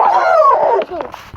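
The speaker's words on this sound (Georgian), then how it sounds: "აი, ძაღლი." A short, high whimpering yelp from a dog in a video game, followed by a few faint clicks and soft noises, brief and fairly close.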